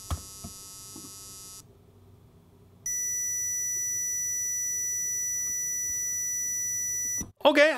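An Arduino speaker plays a pulse-width modulation tone at 2000 hertz, a steady buzzy electronic pitch rich in harmonics holding for several seconds after an earlier brief tone, with a voice cutting in at the end.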